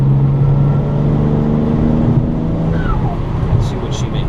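A BMW 335i on a road test drive, its engine a steady, loud droning hum that stays constant throughout, with a faint high whistle near the end.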